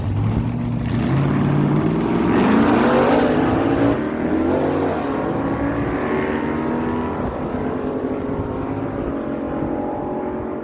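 A 1969 Ford Torino and a 1992 Ford F-150 launch side by side at a drag strip, engines roaring loud and rising through gears, then fading into a sustained distant drone.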